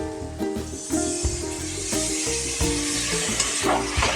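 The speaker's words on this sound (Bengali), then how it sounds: "এবার আমি দিয়ে দিচ্ছি এটা চিংড়ি মাছ যে বেটেছি সেই ধোয়া জলটা" Prawn washing water goes into a frying fish curry, giving a loud continuous sizzle and spatter with rhythmic stirring thumps of a spoon against the pan throughout.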